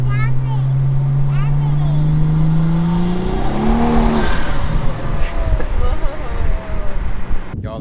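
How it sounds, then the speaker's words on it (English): A BMW 340i with a big turbo under acceleration, engine drone rising in pitch before dropping off, heard from inside with wind noise and someone talking over it. "it sounds like my turbo's like turning off or something"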